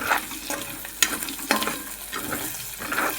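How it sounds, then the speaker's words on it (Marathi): Egg bhaji of onion, tomato and cracked eggs frying in oil, with a spatula scraping and stirring in uneven strokes over a steady close sizzle, a few sharper clicks of the utensil against the pan. "कांदा टोमॅटो कट करून त्यामध्ये मी अंडी फोडून टाकलेली आहेत आणि त्याच्यानंतर हे तेलामध्ये चांगलं व्यवस्थित परतून"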